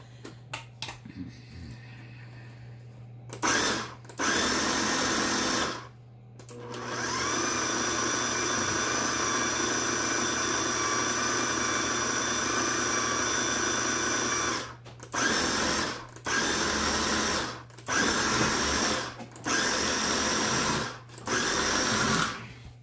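Blender pulsing cauliflower with nutritional yeast for a cauliflower au gratin, running in loud repeated bursts: one long sustained whir, then several short pulses separated by brief pauses, with a steady low hum throughout.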